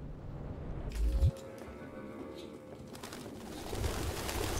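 Doves coo in a room in the video game Detroit: Become Human, with soft calls and fluttering over a dull, rumbling game ambience and no speech.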